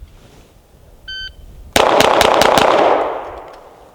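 Five rapid pistol shots from a CZ P-07 fired at targets on a range, loud and sharp in quick succession, with a ringing decay after; a short electronic beep sounds just before the first shot.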